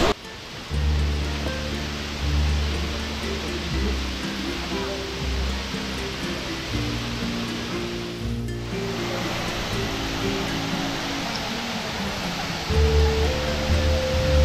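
Waterfall at Vagamon in Kerala: a steady, loud rushing roar of falling water runs throughout, with a low tonal hum layered underneath.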